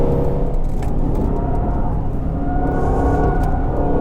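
An Aston Martin Vantage sports car driving, a loud, steady low engine rumble and road drone heard from inside, constant throughout with faint rattles above it.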